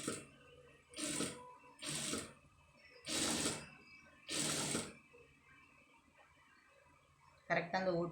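Sewing machine stitching the shoulder seam of an embroidered blouse in five short whirring bursts with brief quiet gaps between them, followed by a moment of faint talk at the end.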